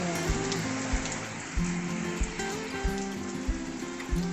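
Steady rain falling on a grey tropical morning, a dense hiss of drops with regular heavier drips or taps landing near the microphone at roughly half-second intervals.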